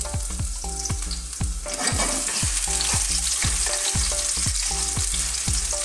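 Garlic hits preheated cooking oil in a pan for Filipino sautéed cabbage, giving a steady close sizzle and frying hiss under rhythmic utensil clanks and scrapes against the pan.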